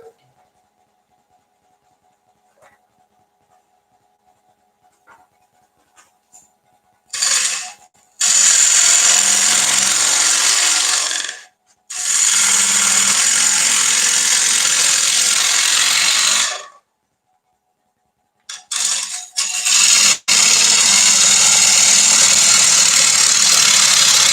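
A wood lathe turns a bowl while a gouge makes bevel cuts. After a quiet start, several long bursts of loud, hissing cutting noise come and go, with brief gaps between them.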